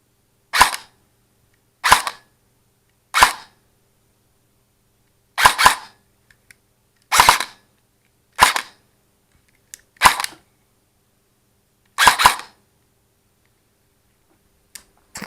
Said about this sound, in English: So I'll just fire a few rounds like I did before